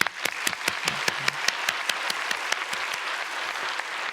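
A congregation at a Sunday church service claps in encouragement for high-school seniors, a steady, fairly loud run of crowd applause with distinct sharp claps standing out throughout.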